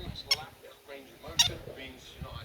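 Two sharp, shrill squawks from a green-cheeked conure parrot ring out about a second apart, close and loud, with soft background noise between them.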